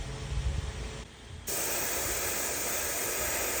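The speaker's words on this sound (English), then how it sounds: "Just make sure we clean up any unwanted overspray right just in the middle." An aerosol spray can coats a fishing lure carved from driftwood, a steady close hiss that starts after a short pause and runs unbroken to the end, with no talking.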